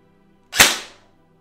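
A single sharp airsoft gun shot is fired past a Nimrod NTC01 chronograph, one loud close crack with a short decaying tail in an otherwise quiet room.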